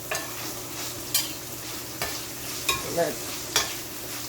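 Half a tomato fries with other vegetables in a pan, with a steady low sizzle and a few sharp stirring knocks. A voice speaks briefly.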